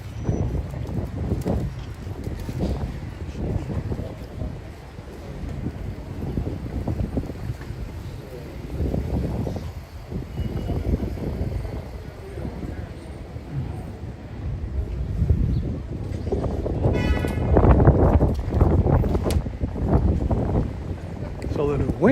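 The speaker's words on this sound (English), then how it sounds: "It's a little windy on this side of the town." Wind gusting along a Harlem street in New York City near the Apollo Theater, a steady low rumbling buffet on the microphone that swells louder toward the end, with voices talking over it.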